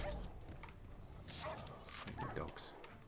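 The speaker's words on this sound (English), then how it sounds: "What's with all these dogs?" Dogs bark and yip in Witcher 3 combat, a few quick barks heard amid ongoing fighting noise while someone talks over them.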